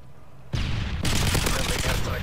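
Heavy .50 cal machine gun fire in a first-person shooter, a dense continuous roar of rapid shots starting abruptly after a brief quiet lead-in and holding loud to the end.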